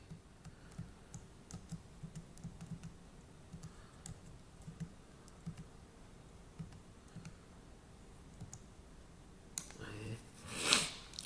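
Computer keyboard being typed on during a lesson, with soft scattered key clicks at an irregular pace, faint and close, under quiet talk, ending in a louder rustling burst.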